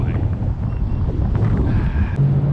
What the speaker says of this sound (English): now it's cold and windy